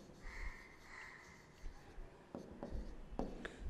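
Handwriting during a biology lesson, a few faint pen or chalk strokes near the end after a quiet stretch with a soft background hum, no talking.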